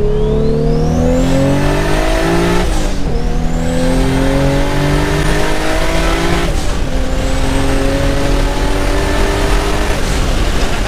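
A Toyota Supra accelerates hard from inside the car, the engine note climbing steeply through each gear pull, with two quick shift breaks and a loud, rising roar throughout.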